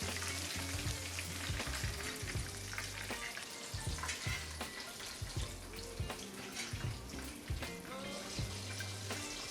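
Bluegill fish sizzle and crackle steadily in a frying pan of hot oil, a close, continuous bubbling hiss with popping spatters and occasional clinks.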